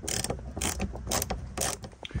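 A ratchet tightens the first bolt on a 2008–2016 Chrysler Town & Country minivan bumper cover, four rhythmic bursts of close clicking separated by brief pauses.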